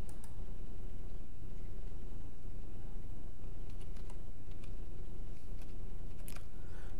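A one-time passcode is typed on a computer keyboard as sparse, light key clicks, scattered unevenly over a steady background hiss.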